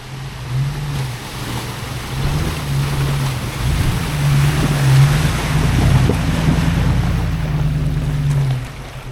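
A vehicle pushes through an always-flowing water crossing in the North Georgia woods, a loud, continuous churning rush of water with a low engine drone beneath it, swelling and fading over several seconds.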